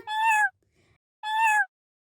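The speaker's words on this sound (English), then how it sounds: "The cat meowed at Dana." Two clear, drawn-out cat meows, each about half a second, separated by a short pause with faint rustling; close and fairly loud.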